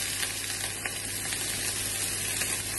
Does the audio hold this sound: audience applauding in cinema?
no